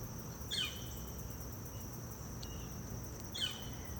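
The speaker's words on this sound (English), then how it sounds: "Do you guys hear the birds in the background?" Two faint, high bird chirps ring out a few seconds apart over a quiet outdoor hiss.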